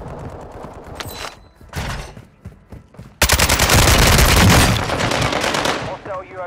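Rapid automatic gunfire in a Call of Duty: Modern Warfare II match, with scattered shots and then a loud sustained burst of rapid fire, with a voice talking over it.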